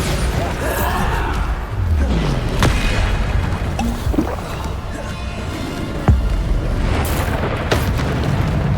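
Spell explosions from the Bombarda charm in Hogwarts Legacy, with several booming blasts and crashes over a steady rumbling battle backdrop, plus other combat effects.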